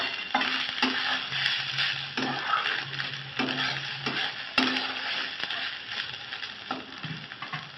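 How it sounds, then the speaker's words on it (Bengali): Gobindobhog rice being fried and stirred in a pan for polao, a soft dry sizzle broken by repeated scraping strokes of a spoon across the pan, close and moderately loud. "চালটা ভালো করে ভাজা করে নিতে হবে"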